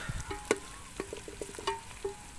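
Garlic, ginger, onion and green chili browning in a pan for a village-style biryani, heard as soft scattered stirring clinks and scrapes over a faint frying hiss, fairly quiet and close, with no talking.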